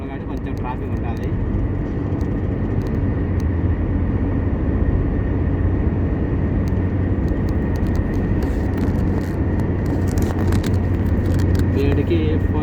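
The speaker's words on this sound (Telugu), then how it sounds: "శుక్రవారం కాబట్టి ఈవినింగ్ టైంలో కాబట్టి కొంచెం ట్రాఫిక్ ఉంటుంది." Evening road traffic on a Friday, a steady rumble of passing engines heard continuously from nearby, with a voice talking over it.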